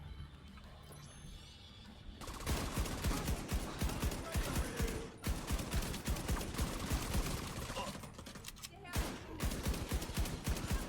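Rapid, loud gunfire from an SVD marksman rifle in The Division 2, a dense volley of cracks that starts after two seconds, breaks off briefly near five and nine seconds, then resumes.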